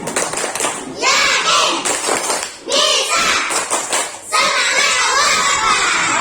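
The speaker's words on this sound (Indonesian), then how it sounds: "Tepuk semangat." Schoolchildren in a classroom chant and clap a rhythmic tepuk semangat cheer, loud and close, with bursts of shouted voices and hand claps in repeating phrases.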